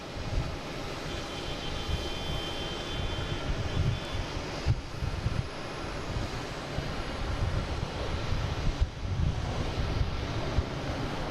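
An American Airlines Embraer E175 jet airliner heading to LaGuardia from Boston Logan makes a continuous, fairly loud engine roar with wind buffeting the microphone throughout.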